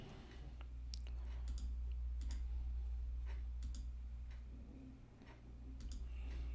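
Sharp, quiet computer mouse clicks during Webflow web design work, several scattered single clicks over a steady low hum, with no talking.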